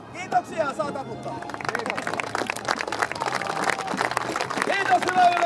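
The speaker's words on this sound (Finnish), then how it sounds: "Kiitoksia, saa taputtaa." Audience applause after a Viking reenactment combat show, crowd clapping and cheering that builds and stays lively to the end, following a person speaking over a quieter crowd.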